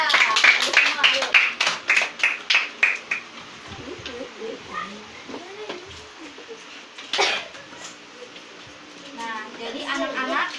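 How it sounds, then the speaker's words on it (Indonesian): Schoolchildren in a classroom clap for a group of students in a burst of roughly a dozen rhythmic, close claps, followed by quieter chatter and voices. "Tepuk tangan dulu untuk kelompok."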